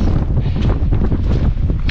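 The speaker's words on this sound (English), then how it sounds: "as you can tell, it is windy." Strong wind on a mountain ridge during a hunt, loud gusty buffeting and rumbling against the microphone, continuous and close with no voices.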